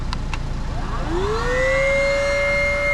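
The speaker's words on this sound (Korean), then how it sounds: "이 전원 버튼 누르면 공기 주입이 시작됩니다" An electric air pump starts inflating a paddle board, its motor whine rising in pitch and then holding a steady, loud tone over a constant background hiss, after two faint clicks.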